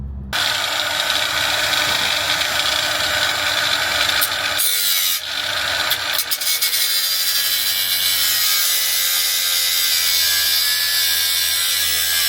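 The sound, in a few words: cutting along the car fender lip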